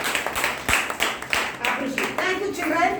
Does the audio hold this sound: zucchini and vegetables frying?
no